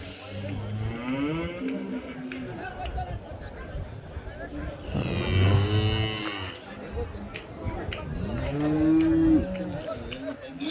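HF and Jersey calves at a busy calf market in Chintamani moo repeatedly, several drawn-out calls overlapping near and far, with murmuring crowd voices and market bustle underneath.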